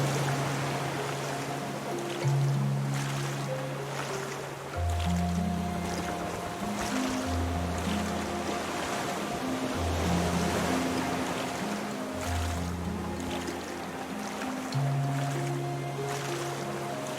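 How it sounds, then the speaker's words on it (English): Paddling a raft through open ocean water in Raft, with steady sloshing and splashing of water against the small vessel under a continuous layered musical drone. "so I can focus on paddling"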